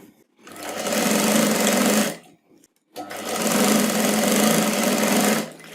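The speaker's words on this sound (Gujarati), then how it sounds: "તો અહીંયાથી ટાંકા લગાવી અને સિલાઈ લગાવી દેવાની." Sewing machine stitching the side seam of a readymade chaniya in two loud, steady runs of about two seconds each, separated by a short pause, up close.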